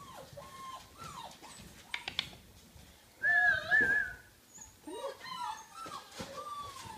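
A young puppy whimpers and whines in high, wavering cries, sometimes rising into short yelps and sometimes trailing off, heard close by in a quiet room.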